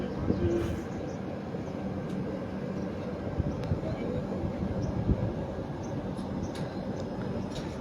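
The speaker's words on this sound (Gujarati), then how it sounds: "અહીંયા આપ જોઈ શકો છો વેરાવળ તરફથી આવેલી અને બાંદ્રા તરફ જતી ટ્રેન" A passenger train rumbles past a station nearby in a steady, continuous roar, with wheels clattering on the rails for several seconds.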